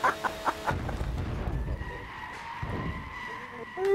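A car spins out with tires skidding in the racing game Gran Turismo 6, a sustained scraping screech with engine tone over a low rumble, preceded by a few short sharp bursts and ending in a louder surge.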